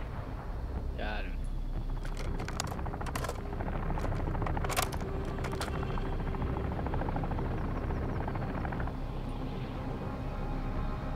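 A helicopter in the game Call of Duty DMZ, a steady low rotor drone filling the background throughout, with game effects on top and speech heard over it.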